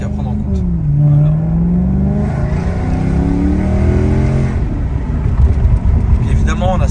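A car engine revs up and holds a strong, rising drone, then eases off, loud and close, with a voice talking over part of it.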